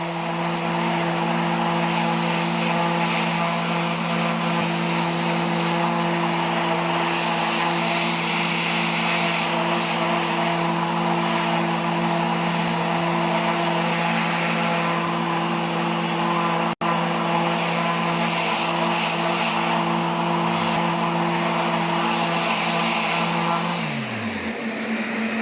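A power sander works an epoxy serving platter at 100 grit, giving a loud, steady droning hum that runs unbroken for the whole stretch and then winds down at the very end.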